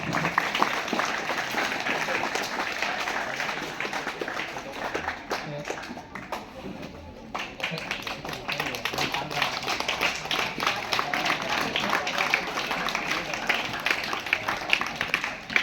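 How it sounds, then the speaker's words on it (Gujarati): An audience at a primary school farewell ceremony claps, a dense, continuous patter of many hands at close range that holds steady throughout, with a brief dip midway. "તાળીઓ પાડીશું મિત્રો જોરદાર"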